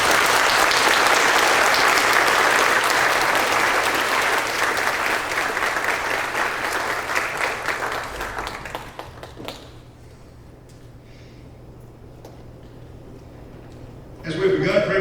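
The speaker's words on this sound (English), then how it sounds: "Let's give each of these students a big round of applause." Loud audience applause for students at a high school spring band concert fills the first half, then fades to quiet room tone before another burst of clapping at the end.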